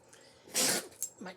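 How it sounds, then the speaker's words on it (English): A dog sneezing indoors, a short sharp burst of breathy snorting with a couple of smaller snuffles after it, close and fairly loud. "That is my dog sneezing."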